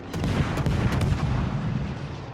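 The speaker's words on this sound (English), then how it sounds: "I'm not the only one shooting, right? There's North Carolina helping." Naval guns fire from warships in the World of Warships game during a battle involving the destroyer Harekaze and the battleship North Carolina, a dense, loud rumble of overlapping blasts and booms with no talk over it.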